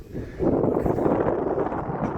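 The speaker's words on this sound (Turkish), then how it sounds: "Evet rüzgar başladı." A steady low rush of wind buffeting the microphone on a rocky hillside near Çıralı, Antalya, rising after a brief quieter moment and holding at a constant roar.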